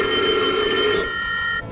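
An old-style telephone rings as a sound effect in a Japanese radio drama. One loud, bright, buzzing ring burst sounds on its own, then cuts off and briefly decays.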